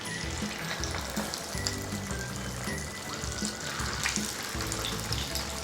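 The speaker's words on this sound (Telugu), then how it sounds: "ఆయిల్ వేడెక్కిన తర్వాత మనం ప్రిపేర్ చేసి పెట్టుకున్న కబాబ్స్ని ఒక్కొక్కటి వేసుకోవాలి" Corn kebabs fry in hot oil in a pan, producing a dense, continuous bubbling hiss that sounds almost like running water, close and steady for the whole stretch with no speech.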